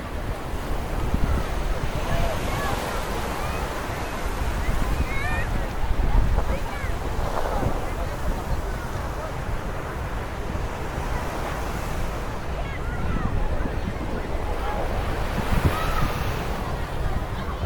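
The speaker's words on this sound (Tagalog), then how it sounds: "Ang ganda ng dagat dito mga papi" Ocean waves wash steadily onto the beach at Patar, Bolinao, Pangasinan, a continuous broad surf roar with wind buffeting the microphone throughout.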